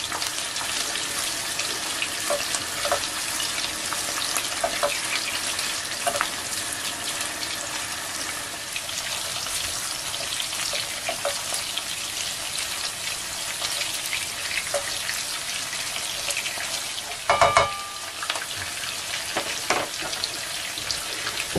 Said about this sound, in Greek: ξεκινήσαμε, τηγανίζουμε τα λουκάνικά μας